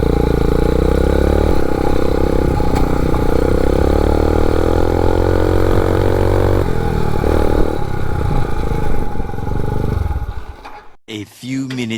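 MotoVox minibike fitted with a 200cc dirt bike engine running loud and close while being ridden, steady engine drone with shifts in pitch, then cutting off near the end with some clatter and a voice heard.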